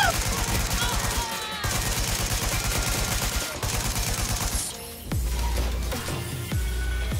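Rapid bursts of gunfire in the open-world game Watch Dogs: Legion, loud and dense across most of the stretch with a brief lull near the end, set against game music and effects.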